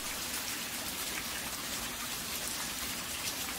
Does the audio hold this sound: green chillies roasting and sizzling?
no